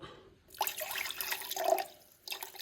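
Water poured into a lemon juice drink made as a Ramadan iftar refreshment: a close splashing pour of about a second and a half, starting and stopping abruptly, with no talk.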